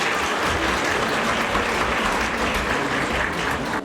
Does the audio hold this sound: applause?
yes